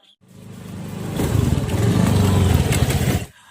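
Motorcycle engine revs up from quiet and holds a rough, loud, close running note for a few seconds before cutting off abruptly.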